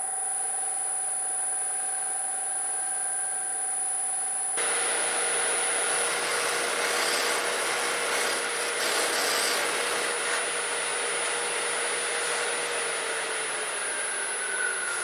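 A buffing wheel polishes a honey locust wood vase with compound and wax, giving a steady, loud whirring rub that starts abruptly after a few seconds of quieter motor hum and then runs continuously.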